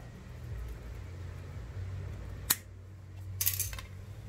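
A swamp cooler hose is cut with scissors or a razor blade, giving a single sharp snip near the middle, followed a second later by a brief burst of crisp cutting or rustling close by, with no talk.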